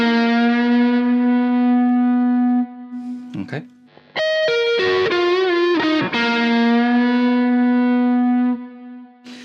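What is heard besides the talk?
distorted electric guitar riff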